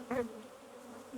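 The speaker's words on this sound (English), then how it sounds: "Get constant buzzing now" Honeybees buzz around an open hive while it is being requeened: a brief louder buzz near the start, then a faint, steady hum that rises again at the end.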